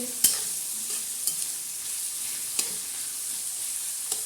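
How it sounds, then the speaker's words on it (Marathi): Onions crackle in a hot oil tadka for dal kanda, a constant near sizzle with intermittent metallic spoon taps and stirring knocks against the pan. "आता हा याला चांगला कांद्याला तडका बसलेला आहे"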